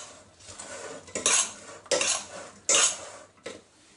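Metal utensil clinking and scraping against a bowl while honey and olive oil are mixed, several sharp clattering strokes at an uneven rhythm, close and fairly loud, no talk.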